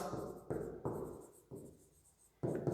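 Marker or chalk writing out a solution during a mole concept chemistry lecture, heard as several short scratchy strokes separated by brief pauses, close and fairly quiet, with no talk over them.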